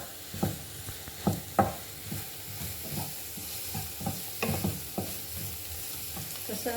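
Garam masala spice mixture sizzling in a pan for baingan bharta while being stirred, rhythmic spoon scrapes over a continuous frying hiss.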